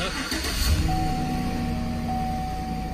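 A 2011 Chevrolet Silverado 1500 LT pickup engine catches and settles into a steady low idle, with a brief burst of cranking and rising rumble at the start, close and continuous with no talk.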